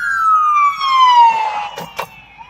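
Emergency vehicle siren sweeping past on a city street, a loud descending wail that drops in pitch as it goes by, with short bursts of nearby traffic noise near the end.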